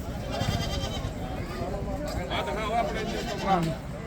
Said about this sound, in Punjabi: ਆ ਬੱਕਰੇ ਲੈ ਕੇ ਆਇਆ ਦੋ